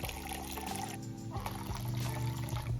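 White wine pours steadily into a pan of cooking chicken for a pasta sauce, a continuous liquid gurgle running the whole time beneath other kitchen sounds.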